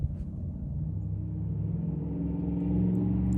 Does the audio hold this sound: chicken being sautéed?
no